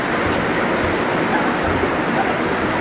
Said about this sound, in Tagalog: Nasisira, no? Puro tulo. Tingnan nyo yung gano'ng kalakas ng tubig